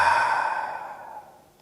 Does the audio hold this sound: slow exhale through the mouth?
yes